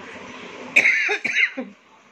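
One person coughs a few times in quick, harsh bursts, close to the microphone, with a brief throaty rasp between them and a quiet room behind.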